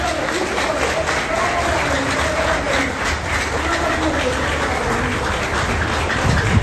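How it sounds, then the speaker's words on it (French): Applause for a panel at a citizens' gathering: dense, steady clapping from a crowd that fills the whole stretch without a break, with voices faintly underneath. "Je prends un applaudissement pour panel ça."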